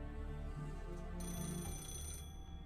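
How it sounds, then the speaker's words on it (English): A telephone rings inside a video game, a steady electronic ringtone with bright repeating tones that shift partway through, fairly loud and alone with no talk. "just started ringing all of a sudden"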